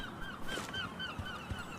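Seagulls squawk in a first-person shooter gunfight map, a run of repeated harsh calls at a steady pace over quiet game ambience.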